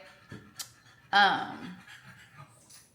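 A freshly bathed dog pants heavily nearby in a home, its quick breaths faint and steady beneath a person talking, with a few small knocks and rustles.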